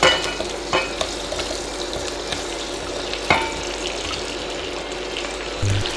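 Potatoes frying in a pan give a steady close sizzle and crackle, with a few sharp clatters of utensils, and no one speaking.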